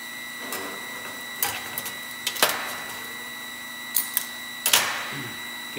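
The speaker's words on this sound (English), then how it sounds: "Okay, I got it tack welded." Short, sharp crackling bursts come from tack welding a small sheet metal panel with butted edges. The bursts are spaced irregularly over a steady electrical hum, with no speech.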